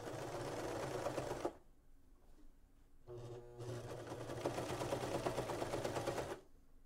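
A sewing machine stitches a faux fur seam in two steady runs of rapid mechanical whirring and clatter, separated by a short pause with a brief stop-start burst, heard close with no talking over it.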